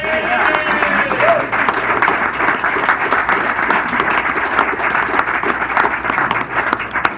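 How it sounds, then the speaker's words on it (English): An audience at a senator's year-end celebration claps for state legislators, a loud, sustained roomful of applause that holds steady throughout, with scattered voices mixed in. "they deserve a round of applause as well."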